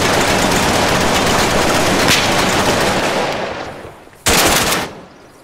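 Sustained gunfire in the video game Arma 3, a loud dense burst of rapid automatic shots that fades out, followed by another short sharp burst.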